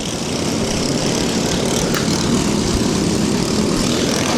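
Lawn mower engines roaring steadily at a lawnmower derby demolition event, a dense, loud continuous drone filling the whole stretch with no talk over it.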